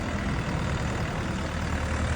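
Diesel KM495 engine of an Orion 504 tractor running steadily, a continuous low loud rumble with no pauses and no talk over it.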